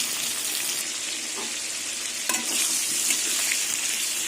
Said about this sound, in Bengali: এবার ঢেকে ঢেকে পটলটা পুরো ভেজে নেবে